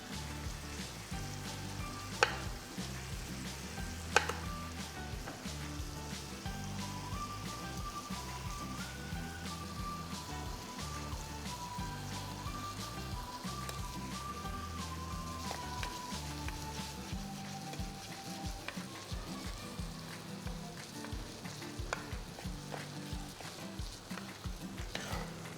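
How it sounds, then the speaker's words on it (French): A beef entrecôte sizzles in a pan during deglazing with cognac, giving a soft, continuous crackle and hiss that stays even and fairly quiet with no talking. "Je vais pouvoir déglacer au cognac"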